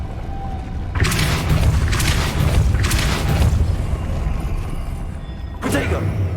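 The Depulso spell cast in the video game Hogwarts Legacy sets off a few loud, booming blasts in quick succession, with another burst near the end, over a dense, rumbling game soundscape.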